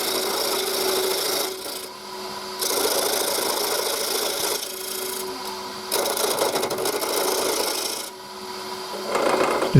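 Lathe tool cutting spalted hazel wood into a cylinder for a pot lid, a steady dry rasping scrape with brief pauses and bursts as the tool engages and lifts off the spinning timber.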